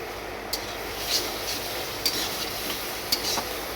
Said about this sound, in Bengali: চিকেনগুলো একে একে দেবো আর নাড়াচাড়া করে নেব